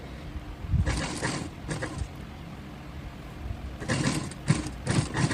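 A sewing machine stitches the neckline of a transparent sweetheart-neck garment, running in short bursts: two brief runs, a pause, then several quick runs close together.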